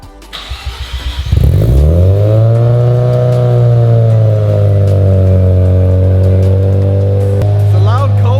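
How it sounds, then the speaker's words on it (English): A Mazda RX7 rotary engine cold-starts loudly, cranking briefly before catching into a steady, droning high idle that holds strong and close throughout, with a sharp blip near the end. "It's a loud cold start anyways."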